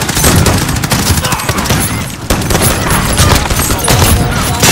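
Rapid, loud gunfire from a multiplayer firefight in Call of Duty: Modern Warfare, with dense overlapping shots and blasts filling the whole stretch.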